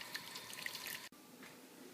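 Cold water from a sink tap pours over freshly boiled potatoes in a steady, close rush that abruptly drops to a softer, quieter flow partway through.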